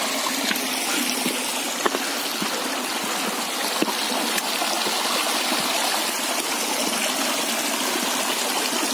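A mountain stream in the Carpathians rushes and gurgles steadily over stones close by, giving a continuous broadband wash of flowing water.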